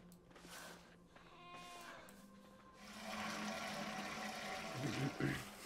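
Sheep in the Beyond Two Souls video game give a few close, wavering bleats, followed by a rush of water-like noise.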